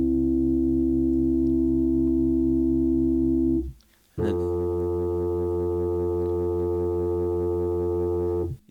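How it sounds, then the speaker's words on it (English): A sine wave generator sounds a Pythagorean major third, two pure sustained tones pulsing with a steady beating wobble. The tones break off briefly, resume with the same throbbing pattern, then cut out, and someone speaks a couple of words. "you can hear that beat pattern going there, and this is with a sine wave generator, so it really isolates the tones"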